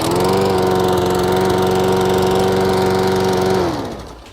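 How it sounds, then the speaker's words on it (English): A walk-behind lawn mower's small engine started by pull cord, running steadily and loud at close range for several seconds, then winding down as the throttle is released and the engine shuts off. "I'm going to go ahead and start this mower and show you how this all works"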